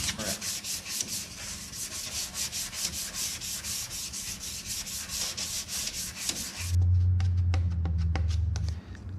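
Close, rhythmic back-and-forth strokes of a sanding block scrape over car body filler during auto body repair, fast and regular for several seconds, then stop and give way to a low hum and a few light taps.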